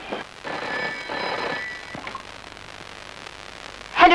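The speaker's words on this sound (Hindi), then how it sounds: "लो, आ गया मेरे भाईजान का फोन।" A telephone rings in a Hindi film scene, a few buzzing electronic rings in short bursts with quiet pauses between them, fairly clear and alone without talk.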